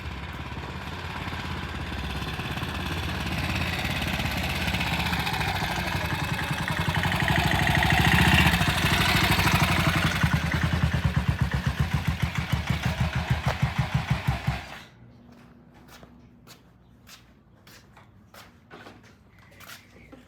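A BSA motorcycle engine runs loud and steady at close range, then abruptly dies at idle, leaving near silence broken only by a few faint clicks and ticks.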